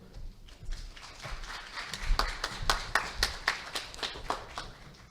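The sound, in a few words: audience clapping to welcome a speaker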